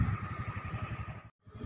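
A motorcycle engine pulses in a quick, even throbbing rhythm as the throttle opens on a ride, cutting out briefly near the end before resuming.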